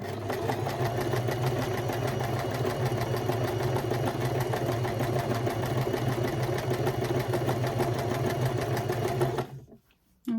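A domestic sewing machine runs steadily and loudly at close range, a continuous fast mechanical whir with fine rapid stitching rhythm, stopping abruptly near the end.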